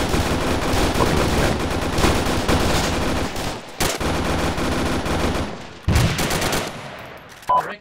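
Light machine gun fire in the Arma 3 video game, sustained loud bursts of automatic shots with brief pauses between volleys.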